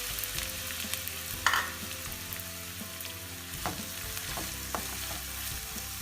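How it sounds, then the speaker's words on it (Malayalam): Two large onions, chopped small, fry in hot coconut oil in a pan, giving a soft, steady sizzle with a few light stirring scrapes, fairly faint and with no talk. "ഇതിലേക്ക് ഞാൻ 2 വലിയ ഉള്ളി ചെറുതായി മുറിച്ചത് ഇടുന്നുണ്ട്."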